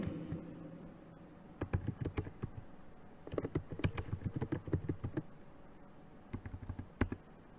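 Keys clatter on a computer keyboard while a label reading a patient-file lookup is entered in a software development tool, bursts of quick close clicks separated by short pauses, no voice over them.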